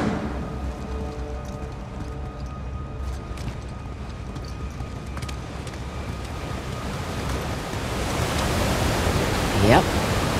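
Rushing water of an aqueduct in Uncharted: Legacy of Thieves, a broad steady roar of flowing water that swells louder toward the end, with scattered clicks and faint game sounds.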